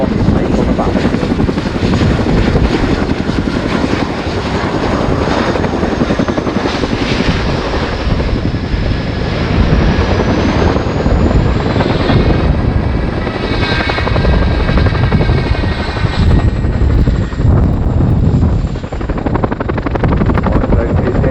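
An RAF Boeing Chinook HC.6 twin-rotor helicopter flies a display at an air show, its loud, continuous rotor thrum and engine roar filling the air steadily and close by throughout.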